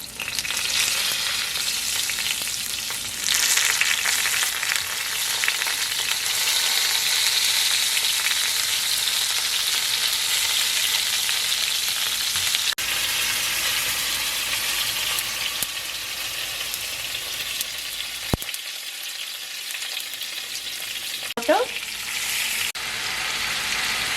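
Eggplants fry in hot oil in a pan for a spicy eggplant curry, a loud steady crackling sizzle with brief stirring clatter and no talk.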